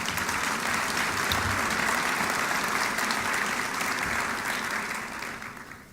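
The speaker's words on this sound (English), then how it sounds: "please, a round of applause." An audience at a chairman's welcome session claps for the event's sponsors. The applause is sustained, full and close, holds strong for several seconds, then tapers off toward the end, and no one speaks over it.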